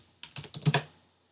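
Someone types a password on a computer keyboard: a quick burst of about six or seven close key clicks, then quiet.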